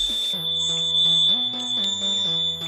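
A 2025 TVS Jupiter 125 scooter sounds its side-stand warning, a steady high electronic beep tone that persists loudly throughout, alongside a lower tonal hum that steps up and down in pitch.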